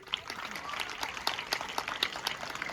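An audience claps for small children dressed in military uniforms at a school alumni gathering, a dense, steady patter of many hands with scattered sharper claps throughout.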